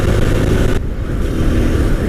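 A 2020 TVS Apache RTR 160 2V, a BS6 160cc single-cylinder four-stroke motorcycle, revs loudly and close up, its engine roar dipping briefly partway before climbing again, with no voices.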